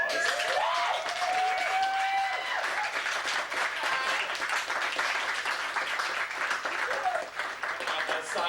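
An audience at a harp concert applauds for the performer, producing a dense, sustained wash of clapping that holds steady for several seconds, with some voices faintly audible underneath.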